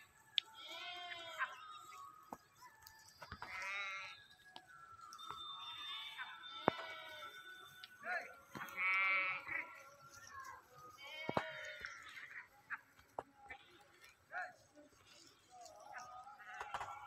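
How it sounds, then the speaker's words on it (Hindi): Sheep by cold water going down to drink in the evening, with several faint bleats scattered over quiet outdoor background and occasional clinking. "एक भेड़ पानी पीने के लिए उतरी, लेकिन पानी ठंडा है"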